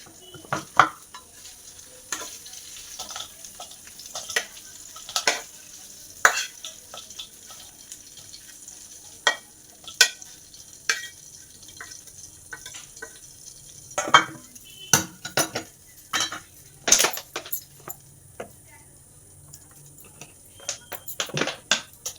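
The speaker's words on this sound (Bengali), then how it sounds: "কুঁদরি ভাজাটা তো হলো" Ivy gourd (kundri) fries in a pan while a spatula stirs it, sharp irregular scraping clicks against the metal over a soft continuous sizzle, with no one talking.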